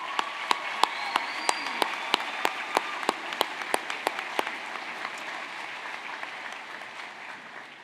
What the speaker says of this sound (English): and we'll give them a big round of applause.